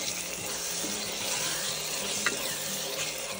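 Chopped tomato and fresh coriander stir-fry in a pot for dhaba-style chicken handi, giving a steady close sizzle with soft stirring scrapes and no talk.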